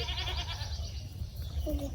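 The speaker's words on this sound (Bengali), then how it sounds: "ছাগলও আসছে।" A goat bleats nearby on a village outing by the water, a short wavering cry followed by a quieter second call amid low background rumble.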